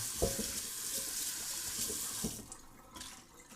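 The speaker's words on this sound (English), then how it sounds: "And then we'll rinse off the salt." Tap water running steadily into a sink while food is rinsed of salt in a home kitchen, a close hissing stream with a few soft clunks and splashes, quiet overall and without talk.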